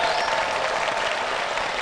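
Studio audience applause on a Korean talk show, steady dense clapping that holds at an even level throughout without breaks.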